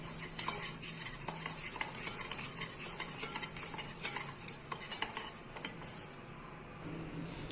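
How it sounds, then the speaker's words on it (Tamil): A spoon stirs a vegetable and fruit jelly mixture in a bowl: quick, steady scraping and soft clinks close by, keeping an even rhythm before easing off. "கட்டி இல்லாமல் நல்லா கலக்கணும்."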